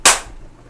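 A voice imitates a high-five slap combined with a fist-bump explosion: one sharp, loud smack-like burst that fades quickly, heard alone.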